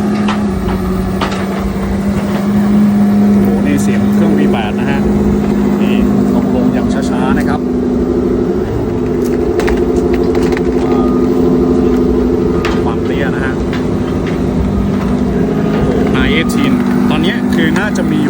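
A Porsche 918 Spyder hypercar idles nearby with a steady, low, droning engine hum that holds for the whole stretch, while voices murmur faintly in the background.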